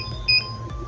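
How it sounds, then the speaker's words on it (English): A SWIPOWER 1500W inverter sounds its overload protection alarm, a brief high electronic beep rising over a low hum that stands alone. "Nag-a-alarm. So, overload protection."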